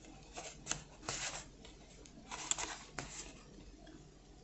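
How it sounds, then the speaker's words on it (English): Oracle reading cards are shuffled and drawn, giving soft papery riffles and a few brief crisp snaps, quiet and close with no talk. "So let's begin by pulling out some cards."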